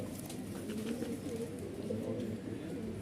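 Punjabi pigeons coo in a steady low murmur, a continuous soft warbling at moderate level with faint background noise and no clear breaks.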